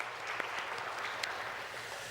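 A church congregation claps together after a Sunday worship service, a steady, moderately distant patter of many hands filling the room without voices.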